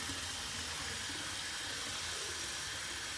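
Hot water runs steadily from a tap into a sink, a constant broadband hiss and splash lasting throughout with no pauses.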